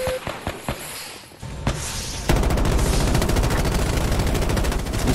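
Gunfire in Battlefield 2042, a few sharp separate shots followed by a dense, continuous burst of rapid automatic fire, loud and close.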